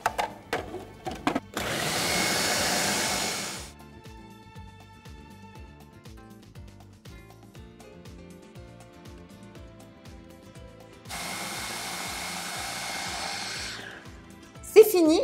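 An electric mixer whirs loudly in two bursts of about two seconds each, blending yeast and flour into cake batter, with quiet kitchen clatter and a steady background beat between the runs.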